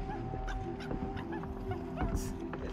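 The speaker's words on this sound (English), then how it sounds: "And now the dog's upset." An upset dog in the video game Happy Game, whimpering and yipping in short strained bursts amid tonal game sounds, with a voice talking over it.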